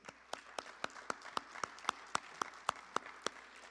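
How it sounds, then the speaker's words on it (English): A small audience at a town State of the Town address claps for the mayor in a sparse, steady run of about a dozen distinct handclaps, moderately close and fairly quiet. "Another round of applause for the Mayor."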